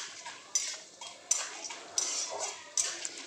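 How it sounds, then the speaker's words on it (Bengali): Peeled peanuts being stirred and fried in a pan, with repeated metallic clinks and scrapes of a utensil against the pan over a soft frying hiss, close and moderately quiet. "বাদাম দিয়ে বাদামটা একটু ভালো করে নাড়িয়ে ভেজে নিচ্ছি"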